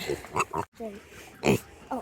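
A young pig being weaned off the bottle, heard close up as several short grunting oinks spread across the moment, alone and loud, with a brief silent gap in between.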